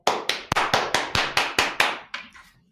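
About ten crisp hand claps in a steady, quick rhythm, fading slightly toward the end, given as a cheer for the creatures in a read-aloud picture-book story about a selfish crocodile; no talk.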